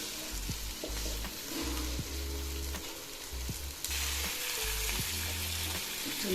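Chicken biryani masala frying in oil while being stirred, a continuous close sizzle broken by rhythmic low scraping strokes of the spoon in the pot.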